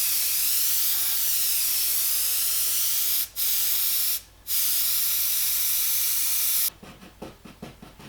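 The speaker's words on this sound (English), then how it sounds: "Just going to put a little bit more of a mist down this side." An airbrush sprays a light mist of paint onto a tiger mural as a steady, close hiss, cut off twice briefly, then broken into short, quick bursts near the end.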